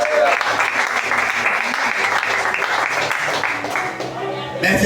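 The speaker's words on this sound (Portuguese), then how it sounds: "Aplaude ao Senhor nesta noite." A church congregation claps for the Lord during an evening service, sustained loud applause with music or voices mixed beneath that fades briefly near the end.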